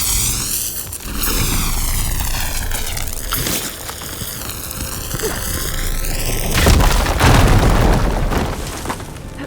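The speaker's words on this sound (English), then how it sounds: "Should be able to blow up that fire gleam." A fire gleam blows up in the Horizon Forbidden West game with a heavy booming explosion and rumbling burst near the end, following a stretch of layered droning game sound and music.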